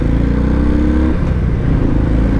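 A 2019 Harley-Davidson FXDR 114 pulls hard on the road, its engine note loud and steady and rising slightly in pitch as it climbs through the revs, with no voice over it.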